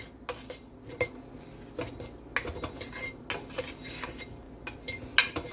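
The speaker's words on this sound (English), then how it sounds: "1 tablespoon of chili powder. Stir that in." A spoon stirs chili powder into a pot of chili, giving repeated metal-on-pot clinks and scrapes at a steady pace, fairly close and alone with no talking.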